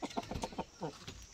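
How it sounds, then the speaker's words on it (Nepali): A domestic rooster clucks close by in a short burst of quick, choppy calls rather than a full crow. "भाले"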